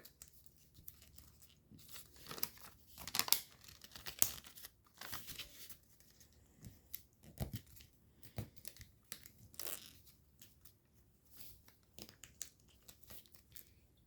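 Sheets of paper are folded and creased into an origami fighter jet, with scattered crinkles, rustles and sharper crisp snaps in an irregular rhythm, close and soft, with no voices.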